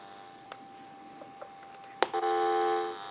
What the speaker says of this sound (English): we're going to go ahead and give you some dial tone